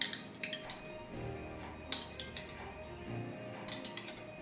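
Spoonfuls of herb and vegetable seasoning going into chicken for a Latin American chicken rice stew: a few clear metal spoon clinks against a dish, close by, in short groups with quiet pauses and no talk.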